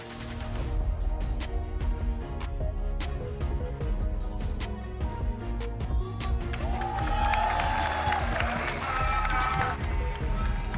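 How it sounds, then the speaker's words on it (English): A large crowd at an MPL Malaysia Season 15 esports match applauds and cheers Ocean Black, a dense steady roar of clapping and shouting under music, continuous throughout. "a round of applause to Ocean Black"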